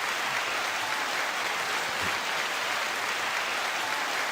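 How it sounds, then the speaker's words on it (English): Steady applause, a dense even roll of many hands clapping at moderate volume throughout, with no voices on top. "9-second applause to everyone."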